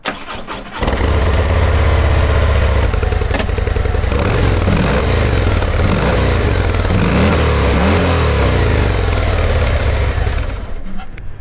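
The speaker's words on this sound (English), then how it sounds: "That just leaves us at the very tip with the exhaust, which we'll have a little listen to now." A 2023 Harley-Davidson Street Glide CVO motorcycle starts with a quick crank, then its exhaust settles into a loud, deep, lumpy idle close by, with a few throttle blips in the middle before it cuts off near the end.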